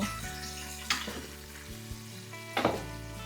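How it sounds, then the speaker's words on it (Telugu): A tomato fries in a pan for mango dal, giving a steady sizzle with a faint hum beneath it, broken by a couple of soft stirring scrapes. "ఇంకా ఒక టమాటా వేసేసి వేగనివ్వాలి"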